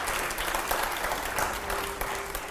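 Sustained applause from a studio audience during a Hindi political news debate show, steady dense clapping throughout with no talk over it.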